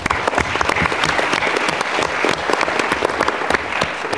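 Audience at a Model UN event at MGIMO applauding a young team, sustained loud clapping from a large hall crowd, dense and even throughout.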